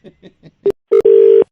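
A phone keypad is dialed: a few soft presses followed by three clear DTMF tones, two short ones and then a longer held tone, loud and close with no talking.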